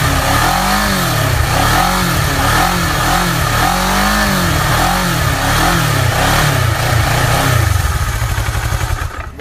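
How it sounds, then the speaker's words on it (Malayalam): Kawasaki ER6N with a parallel-twin engine revving in repeated blips, the pitch rising and falling in a regular rhythm, loud and close, before settling to a rougher idle at the end. "നല്ലൊരു സൂപ്പർ ബൈക്കിൻ്റെ ഒക്കെ പോലത്തെ ചെറിയൊരു സൗണ്ട് അല്ലേ"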